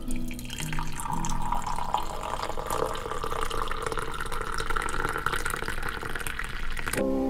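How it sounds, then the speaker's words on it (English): Coffee pours into a cup at home in a steady, close liquid stream lasting several seconds, ending with a short clink. "She pours a good cup of coffee."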